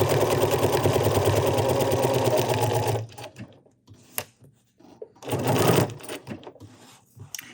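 A BERNINA sewing machine stitches decorative radiant-style patterns in a fast, even mechanical whir for about three seconds, then stops, with light clicks before another short burst of stitching.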